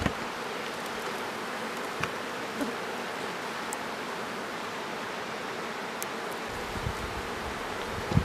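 Bees swarming around a wild rock honey hive on the slopes of Cilo Mountain, producing a steady, dense buzzing hum outdoors with occasional faint clicks and rustles.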